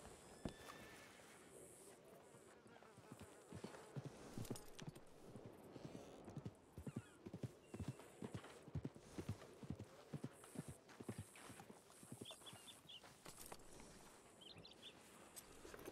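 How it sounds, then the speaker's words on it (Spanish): In a Western roleplay video game, horse hooves clip-clop in a quick, regular rhythm that grows more prominent midway, with a neigh and faint birdsong in the background while voices talk. "¡Mi caballo, mi caballo!"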